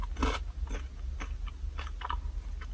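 Close, crisp bites and chewing of a McDonald's Teritama burger with garlic-flavoured fried chicken, several crunchy bursts spaced irregularly over steady mouth sounds, no talking.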